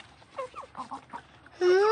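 A few soft bird calls in the background, then a loud, sustained harmonic squawk from a nearby chicken at the end.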